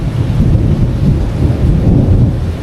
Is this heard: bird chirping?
no